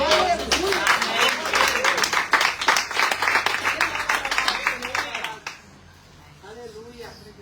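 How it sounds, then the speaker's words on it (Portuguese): A church congregation applauds together during a sermon, dense clapping with a voice over it, loud and sustained for about five seconds before dropping away to quieter talk. "Você pode aplaudir ao Senhor."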